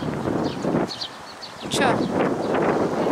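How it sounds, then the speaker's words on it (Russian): Wind buffets the microphone in rough gusts at a lakeside, rising and falling, with a brief spoken word in the middle. "Ветер тут."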